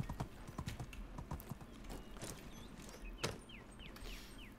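Horse hooves clip-clop steadily in the medieval game Medieval Dynasty, a rhythmic run of hoofbeats at moderate volume with faint whinny-like sounds and light background noise.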